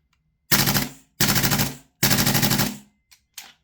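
An MWS gas blowback airsoft rifle running a Maru magazine fires three loud, close full-auto bursts of about half a second each, followed by two short single pops, with no talk.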